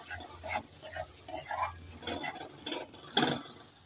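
Spoon scraping and stirring turmeric, chili and Kashmiri chili powder in a pan while cooking a taro and prawn curry, a series of soft, irregular close-up scrapes and clinks with faint sizzling between them.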